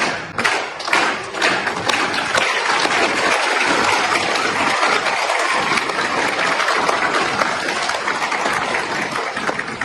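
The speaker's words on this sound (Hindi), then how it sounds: "51 बार तालियों की गड़गड़ाहट से PM मोदी के भाषण का स्वागत" Thunderous applause fills a parliament chamber during PM Modi's speech, dense and sustained clapping from a large audience with occasional heavier thumps, continuing for the full stretch.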